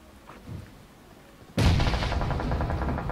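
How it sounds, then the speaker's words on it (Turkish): Bombs going off in a competitive video game scrim: after a quiet start, a sudden loud explosion bursts in and leaves a sustained roaring, crackling rumble. "Bombalar geliyor."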